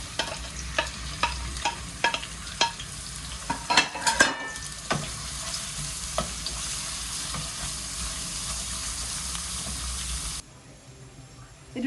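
Chopped onions frying and sizzling in hot oil for a dum pukht biryani, stirred with a utensil that clinks against the pot several times. A steady sizzle runs throughout, with the stirring scrapes clustered near the middle, then the sound drops abruptly near the end.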